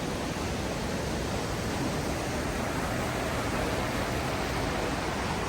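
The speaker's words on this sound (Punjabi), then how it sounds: "ਇਹ ਝਰਨਾ ਨਾਲ ਨਾਲ ਤੁਰਦਾ ਰਹਿੰਦਾ" Waterfall in Johnston Canyon, Banff National Park, roars steadily and evenly throughout as a dense wash of rushing water, close and continuous, with no voices.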